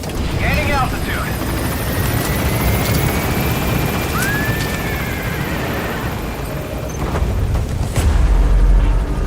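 A military helicopter lifting off and gaining altitude in the war game Metal Gear Solid V: The Phantom Pain, its loud, continuous rotor roar filling the scene, with a few electronic chirps and a brief voice over it.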